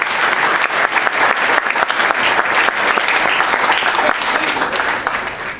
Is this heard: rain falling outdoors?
no